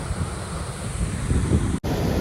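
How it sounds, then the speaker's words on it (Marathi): A steady, loud roar of rushing, falling water from a waterfall at Kuderan near Badlapur, mixed with wind buffeting the microphone, briefly cutting out near the end. "धबधबा बघा, खूप सुंदर धबधबा आहे."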